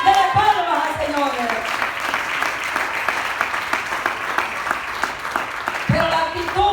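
A church congregation claps steadily during a sermon, sustained applause lasting several seconds, with a voice speaking and singing briefly over the start and end.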